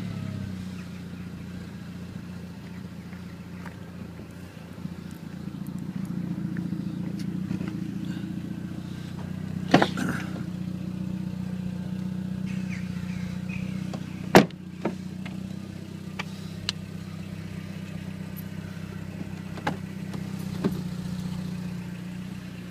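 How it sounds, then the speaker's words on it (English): A black 2002 SEAT Leon Cupra 20V turbo with about 270 bhp drives around a block, its engine a steady low drone throughout, with a few sharp knocks and clicks standing out against the hum. "What I'm going to do now is I'm going to drive the car around the block just to show that everything works as it should."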